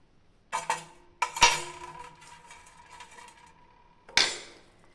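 Chicken curry being stirred after coriander leaves go in, a spoon knocking and scraping against a metal pot in a few sharp clinks separated by quieter rattling, close up with no talking.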